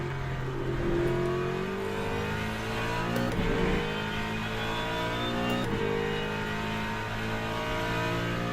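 GT3 race car engine in Assetto Corsa Competizione, droning loud and steady through the whole stretch with gear-change dips and climbing revs during an online lobby race.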